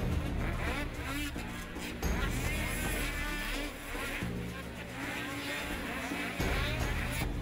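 Racing snowmobiles roar past at close range as Tucker Hibbert overtakes Ross Martin, engines loud and steady with brief surges in pitch, mixed with a faint commentator's voice.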